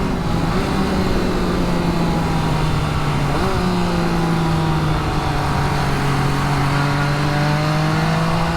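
A 2022 MV Agusta F3 RR motorcycle engine runs loud and steady throughout, its pitch sliding down and then settling as it revs and drops toward first gear, with no talking.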